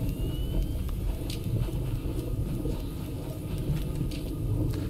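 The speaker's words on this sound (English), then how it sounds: "There's the tornado and the storm." A tornado and storm in the game Stormdivers make a steady, heavy low rumble with a constant roar, close and enveloping, with faint higher whooshes over the drone.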